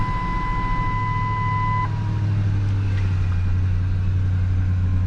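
A 2006-generation Ford F-150 pickup with 226,000 miles idles at an auction lot, a steady, close low rumble with a brief high electronic chime over the first two seconds.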